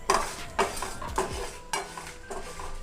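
Garlic is dry roasted with chana dal in a pan for a stuffed brinjal masala, with a spoon clinking and scraping against the metal in a loose rhythm of about five strokes over a light sizzle.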